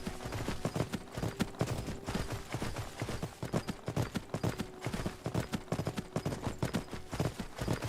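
Horse hooves clop steadily and continuously in a video game, a brisk repeating rhythm of close, fairly loud hoofbeats running throughout with no talk over them.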